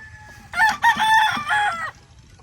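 A full spark gray straight-comb gamecock crows loudly and close by, one long multi-part cock-a-doodle-doo rising and breaking over a quiet background.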